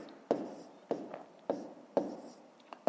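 Pen handwriting maths in a notebook at close range: five or six quick scratchy strokes in a steady rhythm, each a brief rasp on paper, over quiet room tone.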